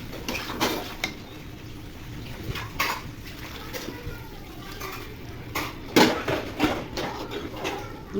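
A spoon scrapes and knocks around a pot of chicken and potato curry, giving irregular metallic clanks and scrapes at close range over a low background hiss.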